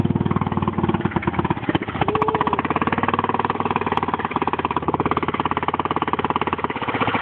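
Motorcycle engine idling steadily and still needing choke at a rally event, a close, loud, even rapid putter running throughout without pause.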